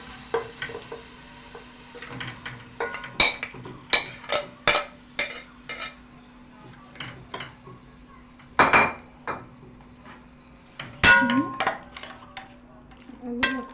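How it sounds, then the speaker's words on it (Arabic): Meat goes into a pot to sear for a spinach dish, with a low sizzle under repeated clinks and scrapes of a spoon stirring against the metal, close and intermittent. "وهنبدأ ننزل باللحمة عشان نشوحها"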